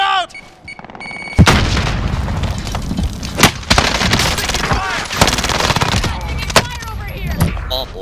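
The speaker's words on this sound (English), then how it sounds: "Grenade out!" In the Call of Duty: Modern Warfare video game, a grenade blast and bursts of gunfire hit loud and close, with sharp repeated shots and booms throughout and soldiers shouting over the combat.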